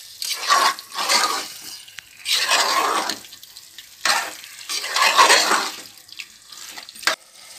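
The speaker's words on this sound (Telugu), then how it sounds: "ఆ చికెన్ వేసేసుకోవాలి. వేసేసుకొని ఇలా కలిపేసుకోవాలి." Marinated chicken stirred in a pressure cooker for chicken biryani, several loud bursts of wet scraping and sloshing separated by short quiet pauses, close to the listener with no talk.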